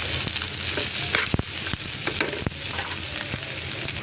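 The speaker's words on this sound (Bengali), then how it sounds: "তো দেখেন এখানে পেঁয়াজ আর রসুনটা সুন্দর করে ভাজা হয়ে গেছে" Onion and local deshi garlic sizzle steadily as they fry in a pan for a coriander-leaf bharta, with a constant hiss broken by a few sharp clicks and scrapes from stirring, close up and without talk.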